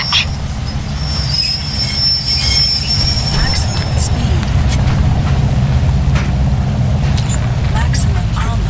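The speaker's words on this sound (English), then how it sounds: "Stay with the train, Psycho." A train in the video game Crysis Warhead rumbles steadily along the rails with a high, shrill wheel squeal and metallic clatter, loud and continuous throughout.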